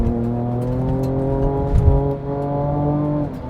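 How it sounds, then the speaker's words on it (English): A Ford Ranger Raptor's twin-turbo V6 revs hard on a track, a loud, close, rising engine note with strong harmonic whine that briefly dips before climbing again, with no voices. "It sounds a bit more like a race car,"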